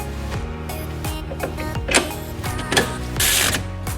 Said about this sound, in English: Now I have to apply medium thread locker to the bolts and torque them.